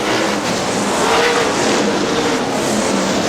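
Sprint cars roar around a dirt oval at Butler Battlegrounds in Quincy, a dense, loud, continuous engine drone from the field passing close by.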